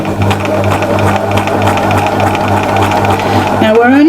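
A sewing machine hums loudly and steadily at close range while free-motion stitching a fabric appliqué, its rhythmic needle drive continuous throughout with a voice talking over it.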